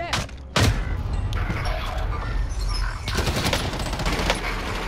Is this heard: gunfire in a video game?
yes